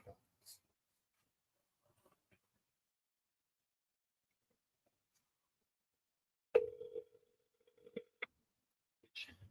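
Telephone call being dialed: a few brief clicks and short tones arrive in scattered bursts, the busiest cluster near the end, with long near-silent gaps between them.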